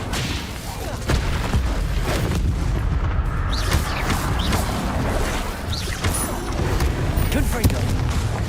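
Incendio fire spell cast repeatedly in Hogwarts Legacy amid a flurry of combat spells, producing dense crackling bursts and booming impacts over continuous battle noise, with a voice calling out spell names throughout.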